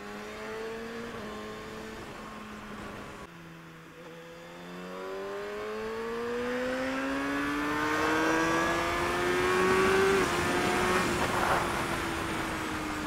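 A Kawasaki ZX6R 600cc inline-four sport motorcycle accelerates hard, its rising engine note climbing steadily in pitch through the gears, loud and close with wind noise building toward the end.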